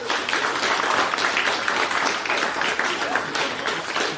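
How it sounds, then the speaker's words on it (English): An audience at a venture-capital founders' talk gives a sustained round of applause: dense, even clapping from many hands at moderate loudness, continuing for about four seconds. "I want a round of applause for Derek."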